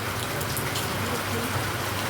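Steady rain falls continuously, a soft even hiss of drops on surfaces at moderate distance, with no voices present.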